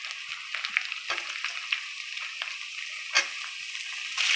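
Papaya pieces hiss and crackle in hot oil as they are stirred in a pan, a thin bright sizzle with scattered clicks and scrapes of the spoon, close and steady without talk.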